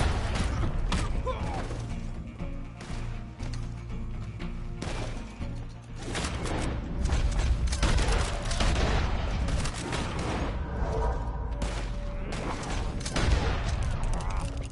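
Gunfire in the Red Dead Online video game, repeated shots and bursts in uneven volleys over a dense, busy background of game sound, with voices heard at times.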